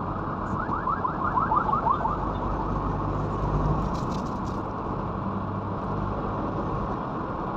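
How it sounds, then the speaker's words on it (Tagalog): A car alarm blares nearby in traffic, its rapid warbling whoops cycling loudly at first and then continuing as a steady tone over a constant rumble of engines and road noise. "Malapit kasi nag-alarm."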